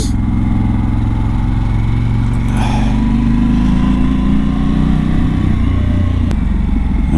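A Harley-Davidson motorcycle engine rumbles loud and close while riding, holding a steady, throbbing low drone with slight shifts in pitch and wind noise across the whole stretch.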